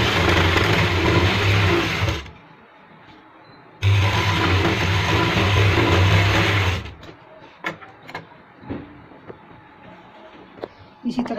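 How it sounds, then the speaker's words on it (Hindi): Sewing machine stitching piping onto a sleeve, two loud steady whirring runs separated by a short pause, then stopping and giving way to light clicks and handling sounds. "इसी तरह हम दूसरी बाजू को सिलाई देंगे।"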